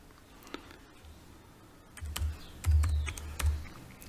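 Typing a search on a computer keyboard: a short run of light, quick key clicks and taps close by in a quiet room.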